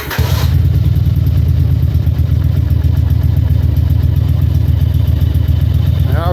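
A motorcycle engine starts up and then idles loudly and steadily to warm up, a deep continuous rumble that holds from start to finish, being readied for spring riding.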